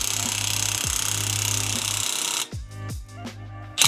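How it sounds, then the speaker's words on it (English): An impact wrench drives an iCrimp IWS-2538CF press tool crimping a copper ProPress fitting, a loud continuous hammering rattle for two seconds, then a brief drop before a few slower, separate impact blows. "connect impact wrench with press tool. Watertight press is made in seconds."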